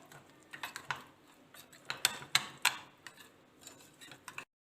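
Spice masala and salt being mixed for mutton makes a series of light, irregular clicks and scrapes of a spoon against a bowl, close and fairly quiet, before falling silent at the end.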